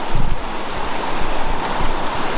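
A river flowing through the Cirque de Gavarnie in the Pyrenees, heard as a steady, loud broadband rush of water that stays continuous throughout with no talking.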